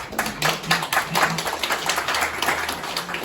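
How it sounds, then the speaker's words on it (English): An audience at a watercolor society awards critique breaks into steady clapping, individual claps audible within the applause, with a faint voice or tone underneath. "So it deserves a big applause"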